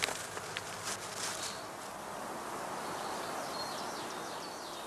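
Honeybees buzzing at a heather skep apiary, a continuous hum from a dense mass of insects, steady and moderately close, with a few brief louder passes near the start.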